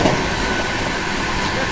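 North East Express train approaching along a railway line in India, a steady, loud rumble of wheels and engine running continuously throughout, fairly close, with no clear clatter beats.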